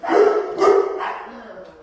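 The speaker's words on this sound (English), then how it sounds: "your dogs are barking" Dogs barking indoors, two loud close bursts followed by a fading bark trailing off, alone without talk.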